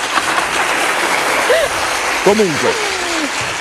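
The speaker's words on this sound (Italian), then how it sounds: "Un applauso." A studio audience on an Italian football TV program applauds in a steady wash of clapping while a presenter talks over it.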